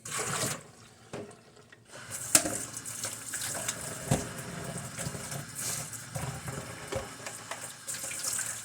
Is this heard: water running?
yes